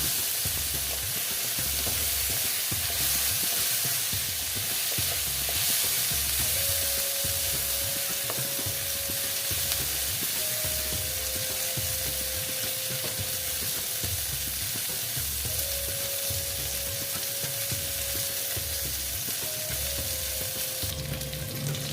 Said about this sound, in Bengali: এই দেখো ভাজাটা আমি ভালো মতন ভেজে নেব